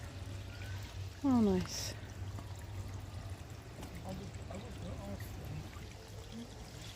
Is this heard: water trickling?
yes